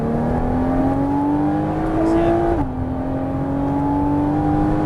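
A Porsche Cayman S on the Dreux circuit pulls hard, its engine tone climbing steadily, dipping briefly at a gear change, then rising again. The engine is loud and close, with a short spoken word over it.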